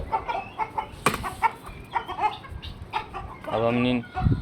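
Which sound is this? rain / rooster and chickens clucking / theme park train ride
rooster and chickens clucking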